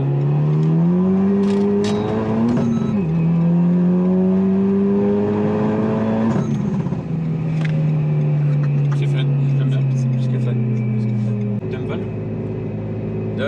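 A Renault Megane IV RS Trophy R Stage 3 engine drones and rises in pitch as it revs, a steady loud roar with shifting tone, a voice talking over it throughout.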